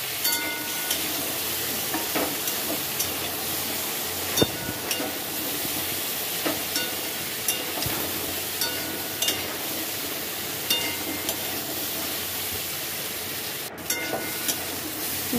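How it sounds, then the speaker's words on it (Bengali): Potatoes and drumstick vegetables frying in a pan for a Bengali dish, giving a steady soft sizzle with occasional stirring scrapes and clicks, fairly quiet and continuous with no talking. "এবার সবজিগুলো ভাজা হয়ে গেছে"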